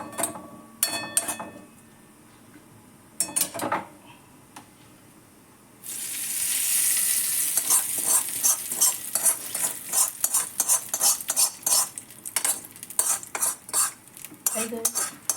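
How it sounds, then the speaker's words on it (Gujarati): Hot tempering with chillies stirred and poured into red chutney, heard as metal clinks and scraping of a pan, then a sudden loud sizzle that keeps crackling alongside repeated utensil clatter, close up with no talk. "લાલ ચટણીની અંદર વઘારને નાખી દઉં."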